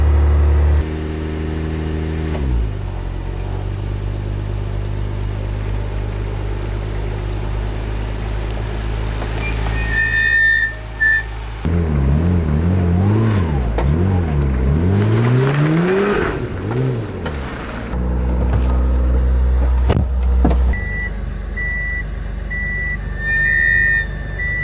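Japanese-market car with a left-to-right-hand-drive steering conversion and its cooling system disconnected runs steadily, then revs with rising and falling engine pitch as it pulls away, loud and close throughout.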